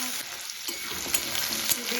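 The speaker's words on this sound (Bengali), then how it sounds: "এই আলুগুলো খুব ভালো করে আমি ভেজে নেব।" Diced potatoes, skins left on, fry in hot oil in a pan, giving a steady, close, dense sizzle with a few brief louder crackles and stirring scrapes, no voices.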